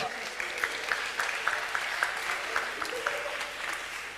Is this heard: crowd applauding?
yes